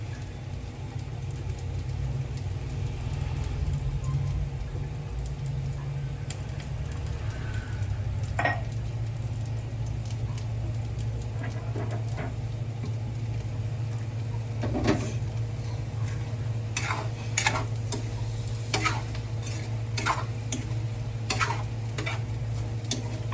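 Pork pieces fry toward crispiness in a pan, with a steady sizzle and low bubbling hiss throughout and occasional sharp crackles and scraping clinks, with no talk.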